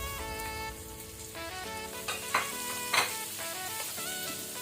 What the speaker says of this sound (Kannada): ಈರುಳ್ಳಿ ಸಹ ಈಗ ನಾವು ಮೀಡಿಯಂ ಫ್ಲೇಮಲ್ಲಿ ಫ್ರೈ ಮಾಡ್ಕೊಳ್ಳುವ.